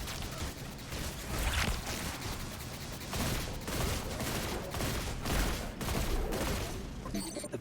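Gunfire from the video game Destiny 2 Lightfall crackles in repeated bursts and volleys throughout, steady and fairly loud, with some voices mixed underneath.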